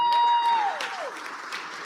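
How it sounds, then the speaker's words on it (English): Audience applause fills the hall at a wheel gymnastics world championships final, a broad continuous clatter of clapping under a steady whistle-like tone that bends downward, with some crowd noise mixed in. "Big round of applause for Liz Höser"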